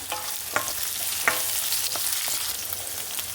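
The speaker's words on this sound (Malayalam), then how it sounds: "ഇഞ്ചിയും വെളുത്തുള്ളിയും ചെറുതായിട്ട് നമുക്കൊന്ന് ഇളക്കി കൊടുക്കാം." Ginger and garlic are stirred while frying for a mutton boti dish: a dense even sizzle with a few sharp spatula taps, close up and free of speech.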